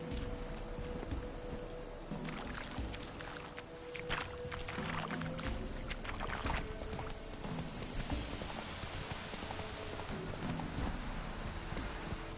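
A horse's hooves clip-clop at a quick gallop in The Witcher 3: Wild Hunt, giving a rhythmic drumming over soft ambient game sound with no talk.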